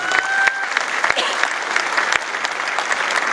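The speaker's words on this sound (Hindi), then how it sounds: "मैं चाहूंगा एक बार जोरदार तालियां होनी चाहिए।" An audience at a wellness business gathering claps loudly and continuously, a dense burst of applause with a few sharper claps standing out and a faint voice briefly audible underneath.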